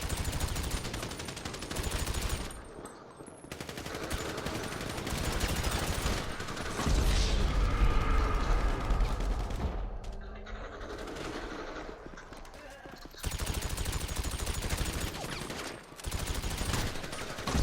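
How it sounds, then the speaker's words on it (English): Minigun fire in an online shooter game, long loud bursts of rapid gunfire broken by short pauses, heard repeatedly across the stretch. "Are you using a minigun?"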